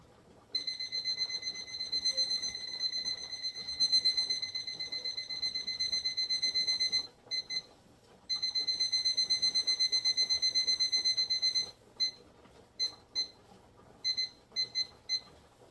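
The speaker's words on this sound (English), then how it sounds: "I'm going to go ahead and get this timer set up for 90 minutes" A kitchen timer for pressure canning pinto beans beeps steadily in rapid, continuous bursts, pauses briefly, resumes, then breaks into short separate beeps, loud and clear over a faint background hum.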